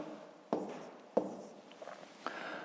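A pen scratches numbers into a table on paper, three short distinct strokes close up in a quiet room, with faint soft scribbling between them and no voices.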